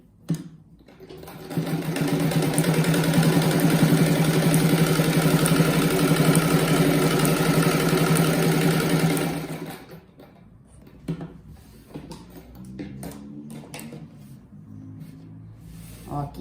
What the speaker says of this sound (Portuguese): Faço duas costuras, deve ficar bem forte.